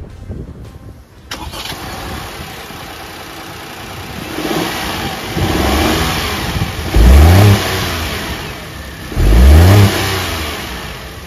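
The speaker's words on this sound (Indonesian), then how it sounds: "So, foot on the brake, kita coba start up dulu." Honda N-Box kei car with a 660 cc S07B inline-three engine starting and running: a brief crank and catch, then a steady idle broken by two short, loud revs, heard up close with no talk.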